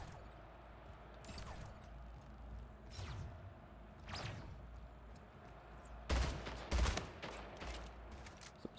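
Battle rifle gunfire in a video game: several sharp, separate bursts spaced a second or so apart, then a louder double volley near the end, all fairly close against a quiet background.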